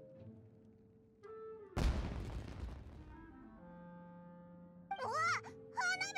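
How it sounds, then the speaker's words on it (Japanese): A sharp, loud burst of explosion with crackling noise, followed by ringing tonal music and a couple of short voiced exclamations near the end. "うわ、花火だ。"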